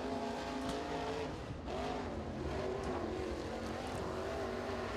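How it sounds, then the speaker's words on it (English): A crate late model race car roars around the high banks of Crossville Speedway on a qualifying lap, its engine droning loud and steady with rising and falling pitch as it passes, alone without voices. "rolling out onto the speedway at this time, we got the 91 machine of Heath Headman"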